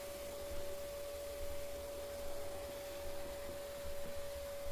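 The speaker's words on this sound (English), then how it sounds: "you just vacuum all the sawdust" Vacuum cleaner sucking up sawdust during the restoration of a 98-year-old Nahat oud, a steady loud whooshing roar with a constant motor whine running unbroken throughout.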